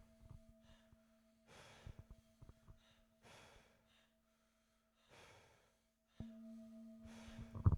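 Slow, deep breaths during a guided breathing exercise, several distinct inhale and exhale bursts separated by pauses, close and fairly soft, with a low steady hum underneath and a louder rustle at the end.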